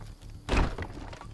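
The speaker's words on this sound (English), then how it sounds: "He's closed our door" A door slams shut in the survival video game DayZ, a single dull wooden thunk near the middle, with quiet background before and after.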